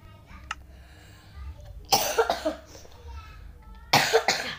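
Two harsh bursts of coughing, each a quick cluster of hacks a couple of seconds apart, close to the microphone with faint background sounds between.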